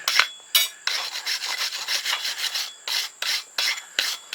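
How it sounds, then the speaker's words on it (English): A forged metal fork end for a blacksmith-made squirrel cooker is rubbed down by hand, giving repeated rasping, filing-like strokes in short bursts, close and fairly loud with no talk. "Rub this thing down a little bit here."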